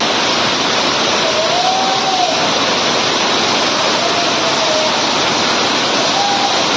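Heavy, continuous rush of rainwater pouring down like a waterfall, loud and steady, with faint tonal whines drifting through.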